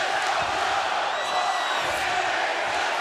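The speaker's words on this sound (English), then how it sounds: "our live crowd here is split. You hear that mixed response?" Live professional wrestling crowd at a TNA event during an X Division title opening match, giving a split, mixed response: a steady, dense wash of crowd noise with scattered shouts and whistles throughout.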